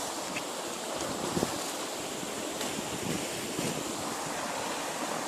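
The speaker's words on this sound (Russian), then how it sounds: "Вот такие водопады." Rushing water from small waterfalls on the Zhene river near Vozrozhdeniye, heard close as a steady broadband roar with gusts of wind noise and no talking.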